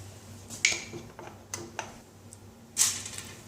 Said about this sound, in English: We have to remove these screws on the bottom.